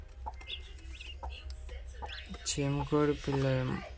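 Thin, high guinea fowl chick chirps sound a few times, then a voice talks over a low steady hum.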